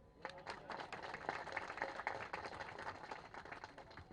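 Scattered applause from an audience at a day-long farmers' dharna rally, many hands clapping in a dense, steady patter that runs throughout without a break, fairly faint and distant.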